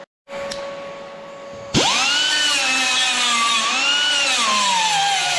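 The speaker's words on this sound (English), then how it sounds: "So now I'm going to sand these down, just make sure it's completely nice and flat before I then finish up welding." Power sander working a welded metal panel on air-cooled VW tinware, starting up abruptly after a brief hum and then grinding steadily and loudly with a shifting whine that rises and falls, no talk over it.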